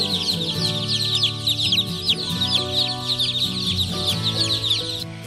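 A crowd of chicks on a Chinese hill farm peep constantly in high, overlapping chirps, near and busy, over a low steady background hum.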